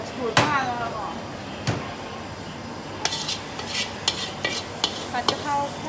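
Holy basil being stir-fried in a pan: a spatula scrapes and clanks against metal at intervals over a low sizzle, with people talking in the background.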